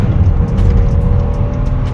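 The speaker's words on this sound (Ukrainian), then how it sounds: "Зараз я вам покажу, як вона набирає від 0 до сотні." A 2013 BMW X5 xDrive35i's 3.0-litre engine roars loudly and continuously as the SUV accelerates hard uphill from 0 to 100 km/h, a steady strained drone heard from inside with road rumble beneath.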